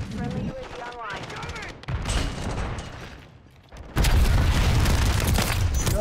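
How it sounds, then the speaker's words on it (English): A grenade goes off in Call of Duty Warzone on Rebirth Island amid bursts of gunfire, and the closing seconds bring a sudden loud, heavy, rumbling blast that keeps roaring on. "I'm gonna die, it was a grenade."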